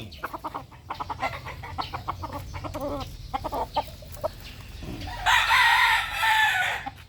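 A straight-comb gamefowl rooster clucks in short bursts close by, then lets out one loud crow near the end.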